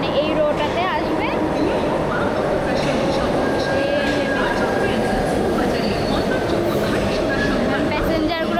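A Kolkata metro train rumbles into the station with a steady, close rolling roar and some squeals, while people talk over it throughout.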